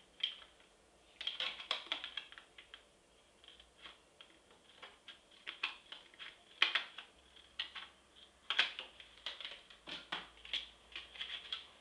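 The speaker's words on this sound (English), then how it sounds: "All we do is take our nice good sharp pair of scissors" A sharp pair of scissors cuts a cheap homemade gear door along a drawn line, making faint, quick, irregular snips and clicks close by in a quiet room.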